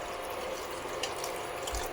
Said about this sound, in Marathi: तर इथं मी पाणी थोडं कोमट करून घेतलं आहे आणि ते मी इथे टाकते.